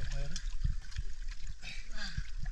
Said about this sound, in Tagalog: Yung alon mga idol.